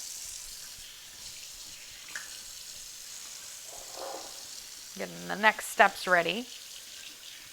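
A kitchen tap runs while someone baking giant ginger cookies waits for the water to turn hot, giving a faint, steady hiss throughout. A voice speaks briefly near the end.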